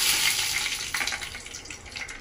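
Nuts, peas, coriander leaves and slit green chillies dropped into hot oil for samosa filling, a steady broadband hiss of frying that flares briefly as more goes in, close and moderately loud, with no talk.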